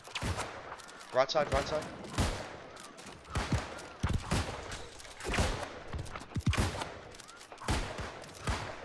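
Musket volleys crack out in a New World war battle, several sharp shots in quick succession and scattered bursts over about nine seconds, with a player's voice calling out briefly.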